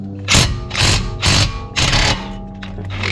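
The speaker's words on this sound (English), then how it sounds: "Just gonna use the impact to loosen it." An impact wrench loosens an 18 mm brake caliper bolt on a BMW during a brake upgrade, firing four loud, close, rattling bursts in quick succession with short pauses between them and no talking.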